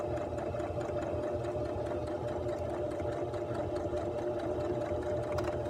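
A sewing machine runs steadily while stitching a centred zipper seam in skirt fabric, sewing forward and back-stitching, with a continuous close mechanical whir and no talk.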